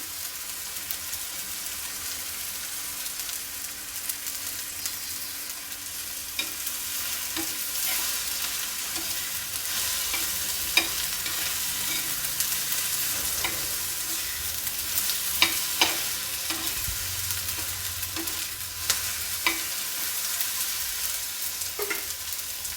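Ingredients for Kolhapuri thecha are stir-fried and roasted in a pan until soft, with a constant soft sizzle punctuated by scattered scrapes and clinks of stirring over about twenty seconds.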